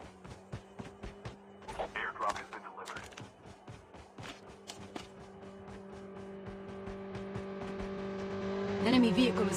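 An enemy vehicle engine in a Call of Duty match drones steadily and gradually grows louder, under rapid clicks, brief game sounds and some speech.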